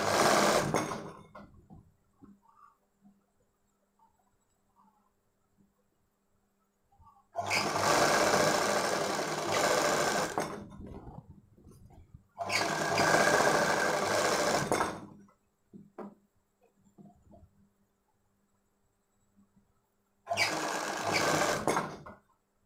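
A sewing machine stitches a boat-neck baby frock in three long bursts of rapid, even whirring and tapping, each several seconds long, separated by quiet pauses with faint handling sounds.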